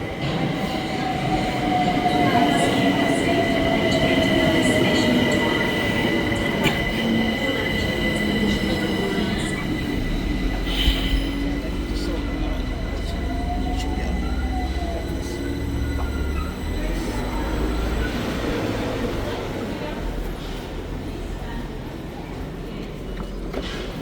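A London train pulls into a station near Whitechapel and Shoreditch High Street, with a low rumble, wheel and brake squeals, and clattering rail noise that deepens as it arrives, while voices chat faintly nearby.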